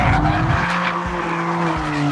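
A BMW M4 with traction control fully off slides on a racetrack, tires squealing loudly and continuously with sustained tonal screech over engine drone, close and alone without talk.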